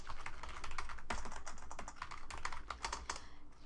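Rapid typing on a computer keyboard, a continuous clatter of key presses with a few louder taps, close and clear.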